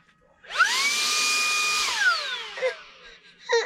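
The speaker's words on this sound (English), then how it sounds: "Jack, do you like the new vacuum?" A new vacuum cleaner in a caravan whines up to a loud, steady high-pitched hum, holds for over a second, then spins down with a falling tone, followed by a few clicks and knocks.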